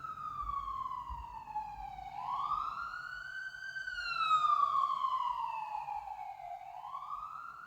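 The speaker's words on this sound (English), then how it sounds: "I'm gonna let this siren pass." A wailing emergency siren rises and falls in slow sweeps, growing louder as it approaches and then fading as it moves off.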